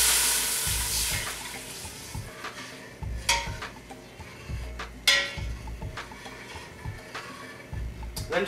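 Apple juice poured into a flour-thickened sauce cooking in a pan for apple-sausage mac and cheese, a soft splashing pour followed by quiet sizzling with a few sharp clinks and stirring bursts, faint and close.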